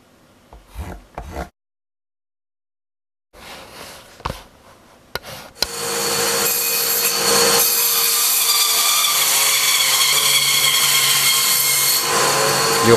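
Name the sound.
band saw splitting wooden logs for clogs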